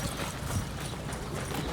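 A roadster show horse in harness trots around a show ring turn, its hooves clip-clopping steadily beneath a wash of arena noise.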